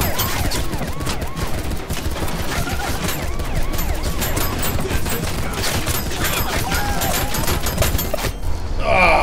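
Sustained MP5 submachine gun fire in the GTA game amid chaotic combat: dense, continuous rapid bursts of shots fill the scene, loud and close, with a voice briefly heard over the din.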